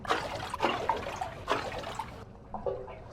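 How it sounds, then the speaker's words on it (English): A tinkly water noise patch from the Omnisphere synthesizer, played at low velocity: bright trickling and splashing bursts in uneven pulses, close and clear, ending in a softer tail. "at low velocities, it's just this tinkly water noise sound"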